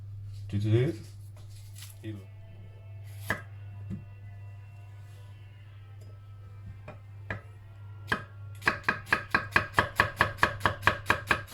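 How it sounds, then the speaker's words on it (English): A knife chops vegetables thinly on a board in a home kitchen, a few scattered cuts giving way to a fast, even run of crisp close knocks, with a person talking over the early part. "all sliced and diced, all in the jar"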